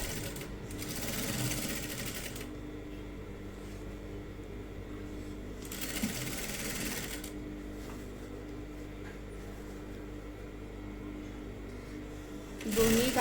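A sewing machine runs in bursts while stitching a sleeve onto a designer blouse, close and steady with short pauses between runs, and a voice talks faintly beneath it.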